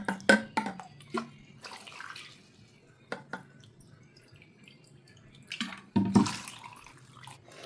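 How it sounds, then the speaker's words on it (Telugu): Brief splashes and trickles of water poured onto cornflour, then irregular clinks and swishes from a spoon mixing it in a bowl, close and fairly quiet. "ఒక కప్పు కాన్ఫ్లోర్కి రెండు కప్పుల వాటర్ పోసి కలుపుకోవాలి"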